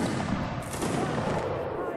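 A short burst of rifle gunfire rattles in a video game line battle, with several shots overlapping in a busy, mid-distance clamor.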